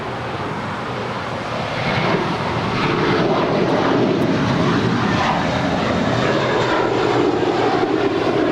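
A passenger airliner lands on runway 25 left at Los Angeles International Airport, its engine roar rising slightly and then holding as a loud, continuous rumble heard from outside.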